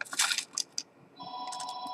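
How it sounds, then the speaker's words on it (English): A telephone rings faintly in the background, with a steady electronic tone starting partway through after a few brief noises, quiet and somewhat distant. "Sorry about that background noise on the phone here."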